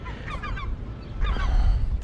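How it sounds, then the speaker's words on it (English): Seagulls loudly call near a rooftop air-conditioning unit during a service call, a few harsh honking cries in quick bursts over steady low mechanical rumble. "Fucking seagulls."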